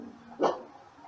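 A dog indoors gives a single short bark, somewhat distant and muffled, against a quiet room background.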